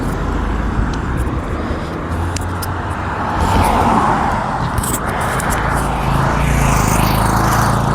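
Steady road traffic drones along a busy roadside, with several vehicles passing close in continuous rumble and rising swells, heard outdoors without talk.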